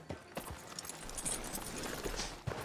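Horse hooves clip-clop across the ground in the video game Red Dead Redemption 2, near a sheriff's office in town. A few soft, uneven hoof strikes sit over steady background ambience, fairly close but not loud.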